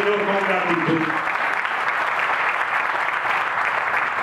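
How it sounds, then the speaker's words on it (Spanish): Church congregation applauding during a Father's Day service, a broad steady wash of many hands clapping at moderate distance, with a brief voice at the start. "Pudiera haber una iglesia que aplaude al Señor con gratitud."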